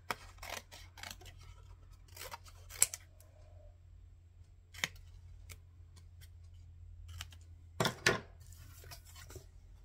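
Scissors snip through paper for a layered Christmas gift tag at a desk, giving a few sharp, close cuts spread out with quiet gaps between them. One louder double snip lands near the end.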